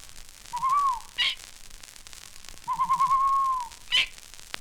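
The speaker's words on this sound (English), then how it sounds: "Here's the call of the long-eared owl." Long-eared owl calling twice, each a sustained, slightly rising hooted whistle of about a second, clear and close, with a short sharp click after each call and quiet between them.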